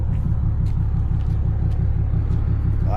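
A truck hauling an oversized load through bad weather, its engine a heavy, steady low rumble with road noise filling the cab, loud and continuous, with a faint hiss at the end.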